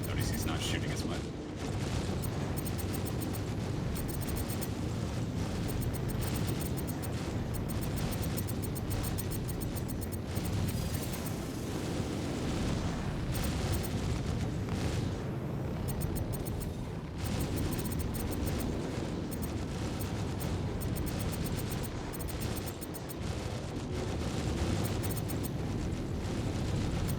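Spaceship weapons fire and explosions during a Gladius versus Sentinel dogfight in Star Citizen, a continuous dense barrage of booms, bursts and rapid shots, loud and sustained, with a voice talking over it.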